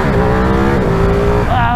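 Ducati Streetfighter V2 motorcycle with its V-twin engine revving loud and close, the pitch holding steady and then climbing sharply near the end, with no voices over it.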